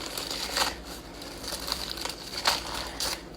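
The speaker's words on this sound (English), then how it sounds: "So you smash it down and you rip out the end." A head of lettuce smashed down on a kitchen counter to loosen its core, heard as a few close, crisp crunching and crinkling bursts spaced about a second apart, without speech.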